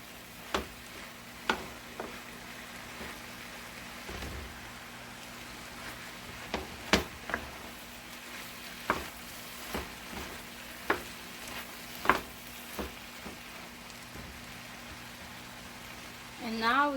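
Tortellini and zucchini stirred with olive oil in a pan, a faint steady sizzle broken by sharp clicks and scrapes of a utensil at irregular intervals, fairly quiet throughout.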